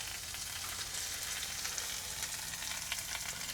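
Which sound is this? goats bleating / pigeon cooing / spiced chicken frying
spiced chicken frying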